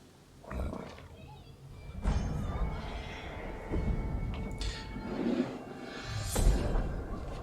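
A horse neighs and whinnies in the video game Ghost of Tsushima, loud and close, with several bursts over a steady in-game background and the faint clop of hooves.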